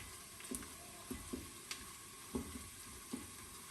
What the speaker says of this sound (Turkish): Bunu da karıştıralım.